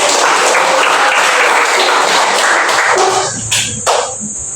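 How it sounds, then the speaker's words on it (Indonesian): A room full of participants applauds at the end of a group presentation in a classroom assessment, steady dense clapping for several seconds that thins out near the end. "kita tepuk tangan."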